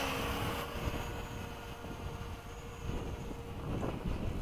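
An F-15 jet aircraft takes off at LFE, a steady, loud broadband engine roar and rushing air that holds throughout with slight swells, no talking.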